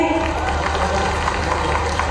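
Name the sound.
crowd applause for Mohan Yadav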